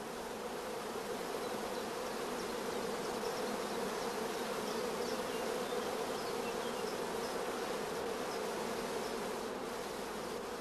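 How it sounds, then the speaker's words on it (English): Honeybees crowd thickly around queen-rearing cells on a frame, a dense continuous buzzing hum, close and steady throughout. "Bees crowding thickly around the cells is a first positive sign of good acceptance."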